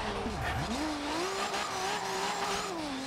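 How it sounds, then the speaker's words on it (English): A Nissan 240SX drift build in the video game Forza Horizon 2 whines and dips in pitch as tires squeal through a slide, a continuous mechanical drone with no talking. "all the noise that comes from this car as I'm driving it, as I'm getting it sideways"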